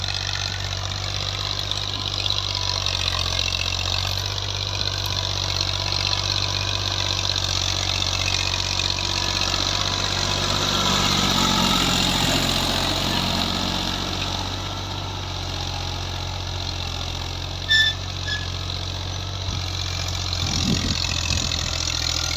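A Ghazi 15-model tractor runs with an 11-tine cultivator hitched, its engine holding a steady, deep idling drone close by for the whole stretch, with no talk over it.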